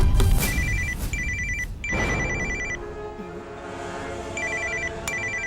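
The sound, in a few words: telephone ringing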